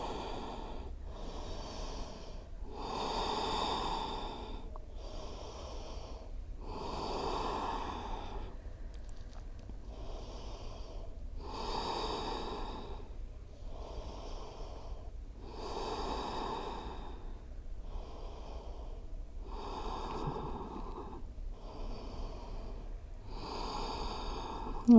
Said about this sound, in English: Take 5 deep breaths here.